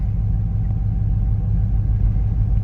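LS-swapped Chevy C10 truck engine idling steadily up close, a deep continuous rumble with a slightly uneven, lumpy pulse from a misfire, no talking over it.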